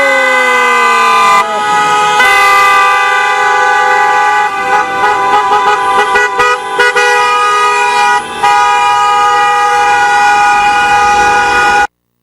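Car horns from a Serbian wedding procession of some fifty cars honk loudly and at close range, with overlapping long blasts and bursts of rapid short toots that run on for several seconds and then cut off abruptly.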